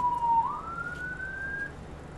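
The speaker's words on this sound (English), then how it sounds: "Siren. Siren on. Siren off." An electronic police car siren wails, dipping briefly, then sweeping steadily upward before cutting off, heard over a low background rumble with no talking.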